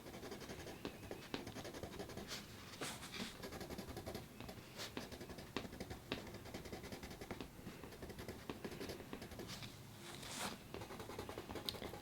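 Soft, steady scratching of a Derwent Inktense colored pencil across paper, close and quiet, in continuous strokes with brief pauses.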